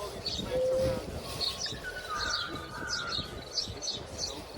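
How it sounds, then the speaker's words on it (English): Several birds chirp and tweet in repeated bursts, with a clear whistled note, over a low background hum. "Sorry about the birds. Birds are a little loud."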